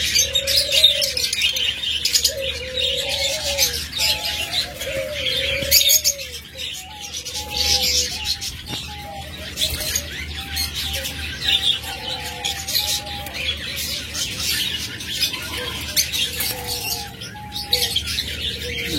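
A pair of caged pet doves coo repeatedly in soft, rounded calls over a constant bright chatter of other cage birds, steady and close throughout.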